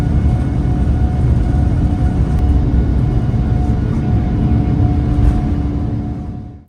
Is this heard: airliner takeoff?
yes